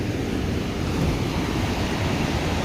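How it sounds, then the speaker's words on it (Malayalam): Waves crash onto Payyambalam Beach in Kannur on a rough evening sea, a steady, loud roaring surf filling the whole moment without voices. "തിരമാല ആനടിച്ചുകൊണ്ടിരിക്കുന്നുണ്ടോ"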